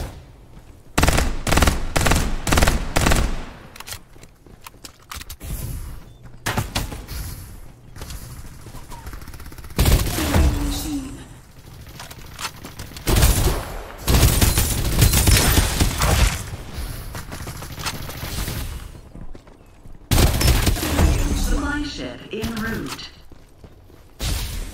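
Bursts of automatic gunfire and heavy firefights from the video game Farlight 84 come in loud rapid volleys with thuds and whooshes, separated by brief quieter gaps, and a game announcer's voice is heard at times.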